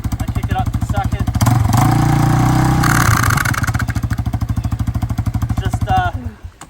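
Yamaha Warrior 350 quad engine running in gear and shifting up to second, a machine that later blows up; loud, close, rapid rhythmic chugging that swells for a couple of seconds, settles back to a steady pulse, then cuts off at the end.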